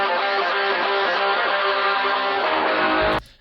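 Isolated distorted electric guitar part from a rock song, a sustained dense rock riff playing loud and steady for about three seconds before cutting off abruptly.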